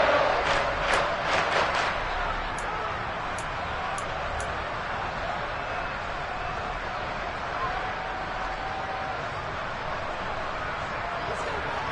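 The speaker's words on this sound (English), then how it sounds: "And this crowd has certainly liked what they've seen." Stadium crowd noise in a Madden NFL football game, a steady broad roar of cheering fans held at even level throughout, with a few faint whistles early on.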